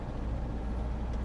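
A 1973 Citroen DS, a five-metre-long classic car, drives along with a steady, fairly quiet low engine and road rumble heard from inside, with no voices.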